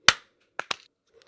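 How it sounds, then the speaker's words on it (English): Sharp hand claps during a microphone sound check, one crisp clap followed by a quick double clap, close and dry in a quiet room. "Now the clap."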